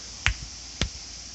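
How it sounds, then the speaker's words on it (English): Two sharp hand claps at a Shinto shrine offering box, spaced about half a second apart, crisp and close in a quiet setting. "and then you clap again"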